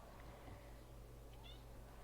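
A house cat meows briefly a couple of times indoors, soft and somewhat distant, over a steady low hum of a room with a sewing machine setting.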